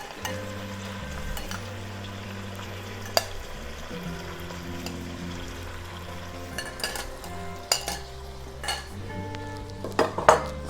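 Chicken frying in a pan with cumin, ginger and garlic, giving a steady low sizzle under occasional stirring scrapes and sharp utensil clinks against the pan, close and moderate in level, with no talking.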